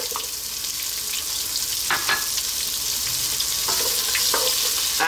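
Onion dropped into hot oil with whole spice seeds for a vegan Indian mulligatawny soup, a continuous bright sizzle close by with a few faint clinks of stirring, no voices.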